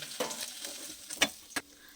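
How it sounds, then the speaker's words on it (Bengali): Small fish fry in hot oil with a soft, quiet sizzle, broken by a few sharper spits and crackles, and no voices. "আবার ওই তেলের মধ্যে এরকম করে দিয়ে মাছগুলোকে আমি সব ভেজে নেব"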